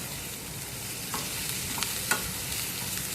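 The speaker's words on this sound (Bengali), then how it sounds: "সব কিছু দিয়ে ভালোভাবে কষিয়ে নিচ্ছি" Masala with chopped tomato, salt and fish-frying oil sautés in a pan, giving a steady quiet sizzle with a few light spatula scrapes and taps scattered through it.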